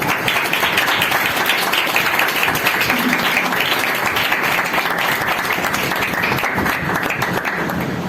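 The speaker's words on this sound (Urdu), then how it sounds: "کو ویلکم کریں بھرپور تالیوں کے ساتھ" A church congregation gives hearty applause to welcome a speaker, a loud, unbroken roar of clapping that holds evenly throughout.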